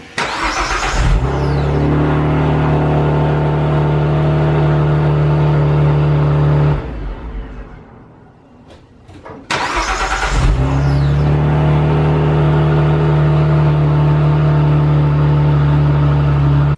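A Saab 9-3 engine cranks and starts, settles into a steady loud idle, cuts off briefly and then restarts into another steady idle nearby.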